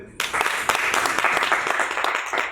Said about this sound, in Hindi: आप तालियां बजाएंगे तो बहुत अच्छा लगेगा।